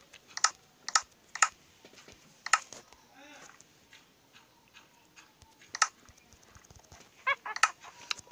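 Irregular bursts of computer keyboard typing, clusters of sharp close clicks separated by pauses, with faint background sound between keystrokes.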